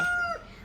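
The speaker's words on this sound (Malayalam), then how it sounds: "കോഴിയൊക്കെ കൂവുന്ന" A rooster lets out a brief crow, a short, fairly loud, close call that fades quickly against a soft background.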